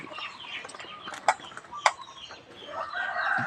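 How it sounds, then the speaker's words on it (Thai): Chickens cluck and cackle softly at a Buddhist temple in Lampang, Thailand, with a few sharper calls standing out over scattered bird chatter in the open air, fairly faint and close. "ไก่กินข้าวแล้ว"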